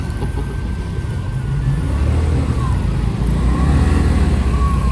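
Traffic on a busy road through the Lembah Anai valley in Indonesia, with a medium-engine Mitsubishi Canter truck passing close by amid other vehicles; a steady, loud engine rumble swells slightly as it goes past.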